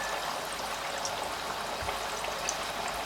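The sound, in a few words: bread kabab frying in hot oil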